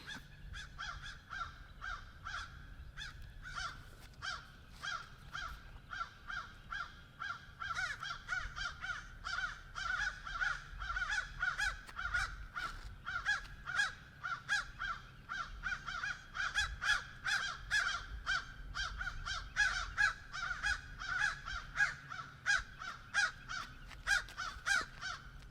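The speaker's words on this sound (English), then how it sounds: "It's a whole murder of crows." A whole flock of crows cawing outdoors, a dense, continuous chorus of harsh overlapping caws that stays loud and busy throughout, with no talking.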